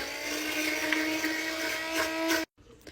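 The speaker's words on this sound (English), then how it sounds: "I'm just gonna stick my immersion blender in, turn it on, and start blending up the soup" An immersion blender whirs steadily in a pot of broccoli cheddar soup, a high, buzzing motor whine with a faint churning beneath it. The whine holds for about two and a half seconds, then cuts off abruptly, leaving quiet handling sounds.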